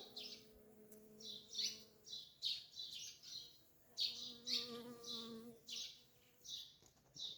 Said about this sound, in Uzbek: Asalarilar yuribdi, asalarilarni ham bir ko'rsatib qo'yay.